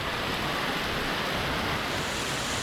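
Spring waterfall in Crimea running hard after a small trickle swelled into a torrent, giving a steady, dense roar of rushing water that fills the whole clip without pause.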